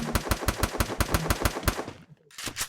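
Rapid automatic gunfire from a hip hop bundle ranked video game match, a loud, evenly spaced burst of about a dozen shots that cuts off briefly and then resumes.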